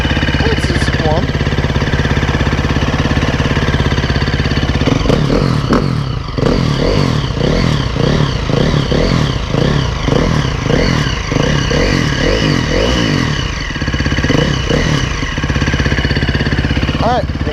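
A 2011 KTM 350 SX-F dirt bike engine runs loud and close throughout, revving and rattling with a steady mechanical clatter.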